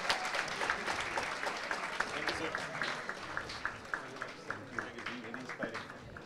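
Sustained applause from an audience at a college award ceremony, many hands clapping steadily at close-to-mid distance, with a voice speaking faintly over it.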